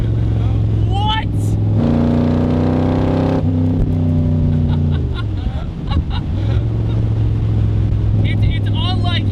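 A Superformance Shelby Cobra roars loudly up close as its engine revs hard while driving, the pitch climbing, dropping and climbing again, with brief voices now and then over the steady rumble.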